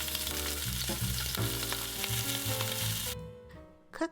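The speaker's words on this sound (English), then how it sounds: "Season with salt and pepper, and then add them to your pan." Seasoned shrimp sear in a hot pan with a dense, steady sizzle that cuts off abruptly near the end, followed by a brief clatter.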